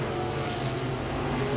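Modified race cars running door to door at Langley Speedway, a loud steady roar of engines at close range with no break, brief and continuous.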